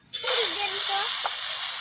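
Flour batter for gola roti hits a hot kadai with a sudden, loud, steady sizzling hiss that runs to the end, with a faint voice-like tone underneath.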